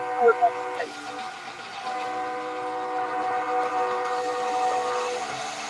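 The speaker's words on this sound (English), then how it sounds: "that freight train sound in Jerry World" Freight train horn played over the speakers in an NFL football stadium, a loud sustained multi-tone blast lasting several seconds that echoes through the venue, with crowd noise and voices underneath.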